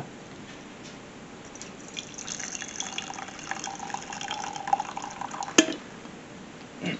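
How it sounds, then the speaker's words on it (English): Coffee pours steadily from a pot or carafe into a mug, a close, bright liquid stream rising in pitch as the cup fills, with one sharp clink near the end. "let's pour that coffee."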